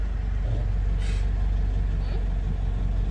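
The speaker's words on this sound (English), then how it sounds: "2 vehicles coming up." Vehicles, including a truck or bus, climb a steep two-lane mountain road in the Paramin hills, their engines a steady close rumble with a brief hiss, while someone talks over it.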